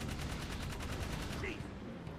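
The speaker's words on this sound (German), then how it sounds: "Der Sound vom Maschinengewehr ist ziemlich laut" Machine gun in the video game Jak 3 fires a fast, steady stream of rounds, rattling evenly for about a second and a half before cutting off, fairly quiet overall.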